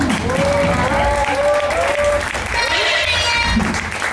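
Loud, continuous crowd applause with whoops and cheers at a live poetry event, sustained for about four seconds over faint background music.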